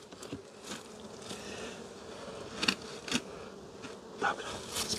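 Bees buzz steadily close by, with individual insects droning louder as they pass near, over a quiet outdoor background near a river.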